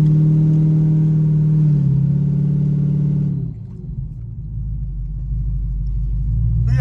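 A C6 Corvette with headers and a big torque converter rumbles along while driving, its loud engine drone dropping off midway before settling into a lower steady rumble, with no voices.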